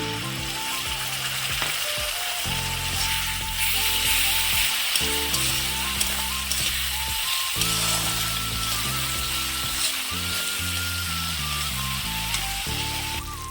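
Grated tomato frying in a spice mix for a spicy dry potato and capsicum curry gives a steady, loud sizzle throughout, with occasional stirring scrapes and a faint tonal hum beneath.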